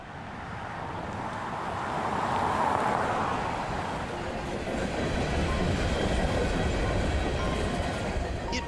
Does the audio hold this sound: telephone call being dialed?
no